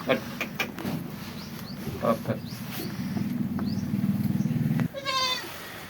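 A goat bleating on a Pakistani farm, with several short bleats and a longer drawn-out cry heard up close while someone talks over them.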